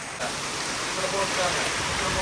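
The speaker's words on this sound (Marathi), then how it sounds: "पाऊस आला रे लय दिवसात पाऊस आला रे" Steady rain pours down in a continuous hiss, even and unbroken throughout, with no voices.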